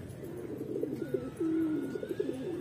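A Bodar pigeon coos close by, with soft, throaty, rolling calls repeating over faint background hum.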